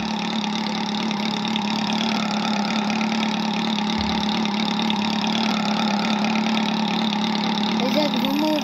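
A motorcycle engine runs steadily at close range for the whole stretch, a constant droning hum with a brief low thump about midway.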